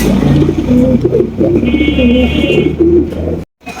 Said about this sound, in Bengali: আরো একজন এখানে সিরাজি কবুতর রয়েছে